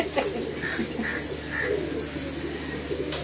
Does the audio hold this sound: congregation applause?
no